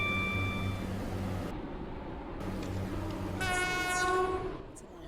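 A train pulls into a station in the SCR railway video game, its steady rumble rolling under a sustained horn blast partway through, then a short squeal near the end, with no talking.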